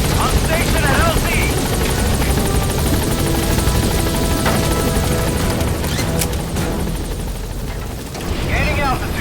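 Pequod helicopter from Metal Gear Solid 5: The Phantom Pain lifting off, a loud continuous rotor roar with steady thudding blades and engine whine. Radio chatter and game voices come through over the noise.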